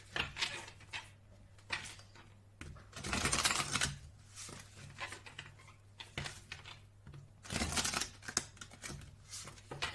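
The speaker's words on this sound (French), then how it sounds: "on va déjà commencer par prendre quelques cartes messages du Divin Ange" Oracle message cards being shuffled and drawn, with soft papery slides, flicks and taps in irregular bursts close by; a steady low hum sits underneath and no one speaks.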